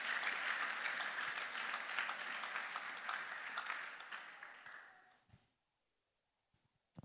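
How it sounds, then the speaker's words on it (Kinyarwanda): A church congregation applauds during a sermon, dense sustained clapping filling the room, then fading out over the last seconds into near silence with a couple of stray claps at the end. "Amashyi ku Mana yacu, amashyi ku Mana."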